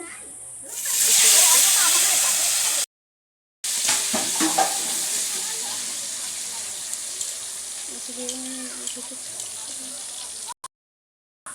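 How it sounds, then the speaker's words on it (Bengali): Potato pieces coated with salt and turmeric fry in hot oil in a home kitchen. A loud burst of sizzling hiss fades to a steadier crackle, broken by brief gaps and occasional stirring clicks. "আলুগুলো ভাজা হয়ে গেছে"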